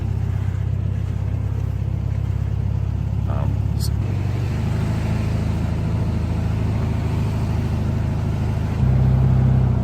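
An aftermarket Volkswagen car being driven: a steady low engine drone heard from inside, with the pitch shifting slightly around the middle and the engine swelling a little louder near the end.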